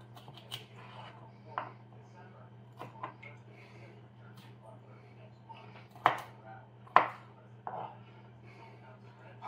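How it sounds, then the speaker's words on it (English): Vegetables are chopped and diced with a knife on a cutting board in a home kitchen: sparse, quiet knocks at uneven intervals over a low steady hum, with a few sharper taps. "Hardest thing about doing all this is the chopping and the dicing."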